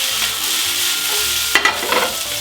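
Tuna pasta is turned and flipped in a hot pan, giving a steady low sizzle with a few scraping, shuffling stirs near the end and no voices.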